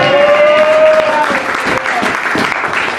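A church congregation bursts into loud, close, continuous applause for the Lord during a French-language service, with a few voices rising and cheering among the clapping.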